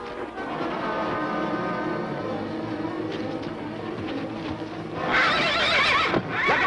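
A horse neighs loudly amid hoofbeats, with a sharp, close whinny rising near the end over a busy background.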